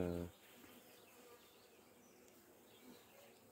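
Young honeybees buzzing in a beehive at an apiary, a faint steady hum throughout with a brief louder burst at the start.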